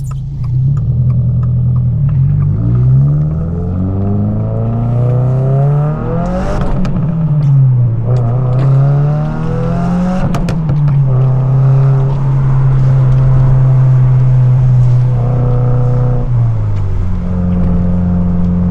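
A 2023 Subaru WRX accelerating on a snowy winter road, heard from inside, with the engine note climbing through the gears and dipping at each shift over a constant loud rumble.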